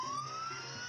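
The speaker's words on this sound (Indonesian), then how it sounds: "Oke, kita nyalain sirine dulu seperti biasa ya kan." A police siren in an Android police simulator game, a brief rising electronic wail sweeping upward, heard alone at moderate loudness over a low engine-like drone.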